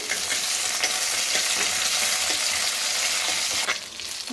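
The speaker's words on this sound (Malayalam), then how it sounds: "നമുക്ക് അതിനകത്തോട്ട് ഇച്ചിരി കറിവേപ്പില ഇട്ട് കൊടുക്കാം" Curry leaves from a home garden sizzle and crackle in hot oil, a dense steady frying hiss with light stirring scrapes and a louder burst near the end, no talking.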